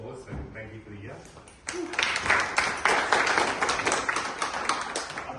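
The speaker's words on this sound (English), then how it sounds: "give everyone a round of applause" A crowd applauds at an end-of-year community celebration, a dense burst of clapping that starts abruptly after a moment of speech and holds steady and fairly loud to the end.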